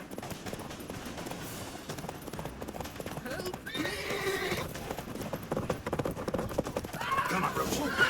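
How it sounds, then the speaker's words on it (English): Horses gallop with rapid, steady clip-clop hoofbeats and let out sharp neighs and whinnies during a chase in the video game The Witcher 3, with voices talking over the hooves. "Grab a horse, we'll chase him down."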